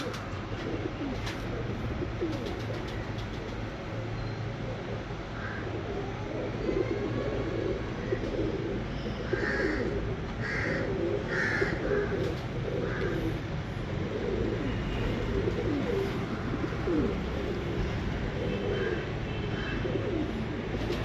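Breeder pigeons in a loft coo softly and repeatedly under a steady broadband background hum, the calls moderately close but partly masked by the constant noise.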